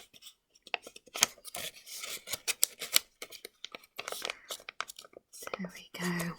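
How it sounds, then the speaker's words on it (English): Origami paper being folded and a flap squashed flat, heard as close, crisp rustles, scrapes and crinkles in irregular bursts, with soft whispery handling noise between them. "You can squash it down."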